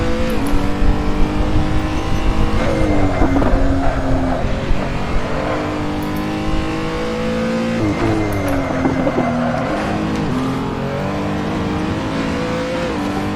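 Renault R.S.01 race car engine at Brands Hatch in a sim racing game, a loud sustained howl that climbs and drops through repeated gear changes, with shifts near three and eight seconds.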